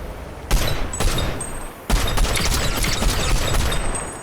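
Bursts of rapid gunfire in the video game Fortnite crack out in several volleys, loud and close, with a sustained rattling stretch after a short pause.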